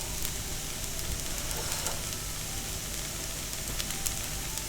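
Shiitake mushrooms, onions and garlic sizzle steadily in a pot, a close, continuous crackling hiss with scattered pops and no talking.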